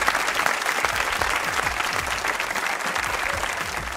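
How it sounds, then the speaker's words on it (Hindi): A studio audience at a Pakistani comedy talk show applauds steadily, a dense, even wash of many hands clapping that holds at a constant level throughout, with no voices over it. "तालियां बजाइए अपने लिए खवातीन और हज़रात।"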